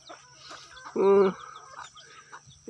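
Several chickens cluck and squawk nearby, with one louder, drawn-out call in the middle over a steady low hum and faint background voices.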